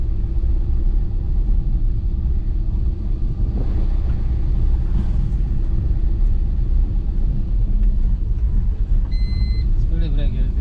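A car driving in third gear along a village road, steady low engine and road rumble throughout, close and continuous, with no speech.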